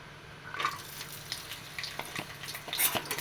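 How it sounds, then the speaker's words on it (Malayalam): Cashew nuts fry in a spoonful of ghee, giving a soft steady sizzle broken by light scrapes and taps of a spoon stirring in the pan. "അതിലോട്ട് കുറച്ച് കാഷ്യൂ നട്ട് ഇട്ട് കൊടുക്കാം"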